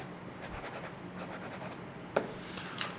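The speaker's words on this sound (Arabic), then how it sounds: "واكتب على الورقة" A pen scratches and rubs across paper close to a LensGo KD95 podcast microphone, steady faint scratching with two sharper ticks near the end.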